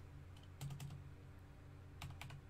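A computer keyboard typed on in two short bursts of a few quick clicks each, close and fairly quiet, with no talk.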